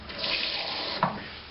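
Kitchen tap water running into a bowl while a pie shell dough is made, a short steady splashing stream with a brief bump near the end.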